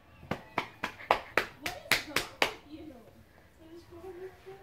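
About nine sharp, evenly spaced handclaps ring out close and loud, then give way to quieter voices.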